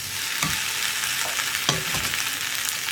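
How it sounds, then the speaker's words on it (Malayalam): Boiled tapioca (kappa) cooking with egg is mashed in a hot frying pan, sending up a steady close sizzle broken by several dull pressing knocks and scrapes of the utensil. "കപ്പ ചേർത്ത് ഒന്ന് ചെറുതായിട്ട് ഉടച്ചെടുക്കുക"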